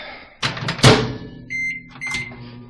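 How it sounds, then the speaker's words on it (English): A microwave door clunks shut on leftover plastisol, followed by a few electronic keypad beeps and the start of a low mechanical hum. "So I'm gonna put this in the microwave,"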